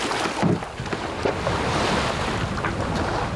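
A sailboat under mainsail and genoa in about 6-7 knots of wind on the Mediterranean gives loud, continuous wind rush and sloshing waves against the hull, with buffeting wind noise on the microphone and no talking.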